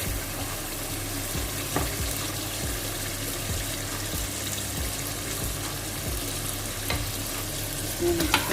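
Chicken added to masala and frying in a pan, making a continuous loud sizzle with occasional stirring scrapes and clinks, close and steady throughout, with no talking.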